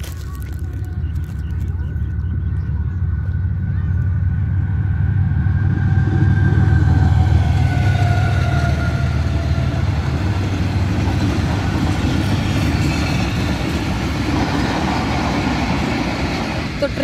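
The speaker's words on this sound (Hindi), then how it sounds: "ट्रेन भी पीछे से आ रही है" A train passing by on railway tracks, a loud continuous rumble that builds toward the middle and then eases off, with a horn-like tone near the start and someone talking over it.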